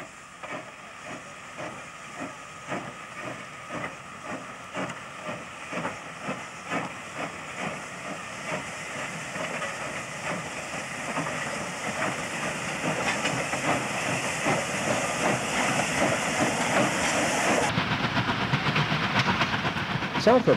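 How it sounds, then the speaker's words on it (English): A steam locomotive in New South Wales hauls bogie ballast hopper wagons, rhythmic chuffing exhaust beats and hiss growing louder and closer, then wheel clatter and rushing steam as it passes. "Bogey ballast hopper wagons are collected from the quarry siding at Umunjeri."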